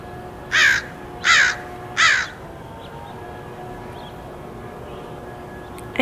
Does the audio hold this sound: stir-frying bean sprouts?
no